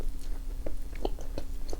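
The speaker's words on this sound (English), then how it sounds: "let me just take a bite of everything" Sushi being bitten and chewed close to the mic, soft wet crunches and mouth clicks spaced irregularly over a quiet background hum.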